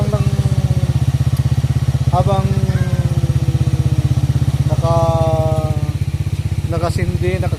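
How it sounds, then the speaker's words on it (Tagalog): A motorcycle engine idles steadily nearby while charging its battery to run an inverter during a power outage. Its low, even putter is chopped by quick rhythmic pulses, and faint voices come and go over it. "dapat yung motor nakaandar"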